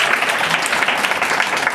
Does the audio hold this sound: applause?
yes